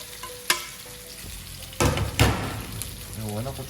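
Minced garlic sizzles and fries in a hot pan, a steady crackle with sharper bursts of spattering and the clink of stirring close by, with no talk.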